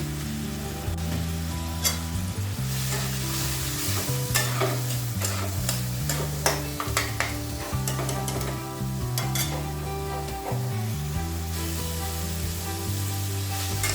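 Ground spices (turmeric, cumin, Kashmiri red chilli, coriander and salt) sizzle steadily in oil for a radish and tamarind curry, with frequent scraping stirs throughout and a sustained low tonal hum underneath.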